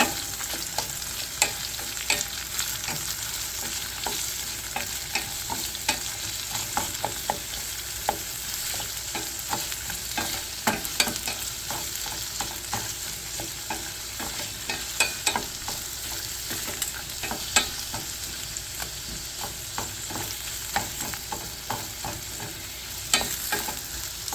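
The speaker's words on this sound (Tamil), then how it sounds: "இப்போ இந்த வெங்காயத்தை ஒரு அஞ்சு நிமிஷம் வதங்க விடுவோம்" Steady crackling sizzle of onions frying in a pan, close up, with frequent sharp pops and occasional stirring scrapes.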